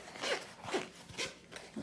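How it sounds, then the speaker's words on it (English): A zipper drawn open on a watch travel box, several short rasping pulls in quick succession, close up and fairly quiet. "That's satisfying zipper sound."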